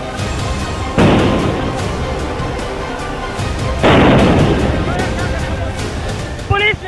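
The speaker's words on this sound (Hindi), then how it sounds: "पुलिस ने किसानों के ऊपर आंसू गैस के गोले छोड़ने शुरू कर दिए हैं।" Police firing tear gas shells at protesting farmers near Delhi: two loud booming launches a few seconds apart over a steady outdoor crowd din, with talk in the background.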